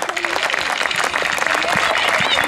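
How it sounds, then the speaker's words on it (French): Applause from a crowd at a youth under-11 football tournament award for the best goalkeeper, steady clapping with cheering and voices talking over it throughout. "On peut l'applaudir."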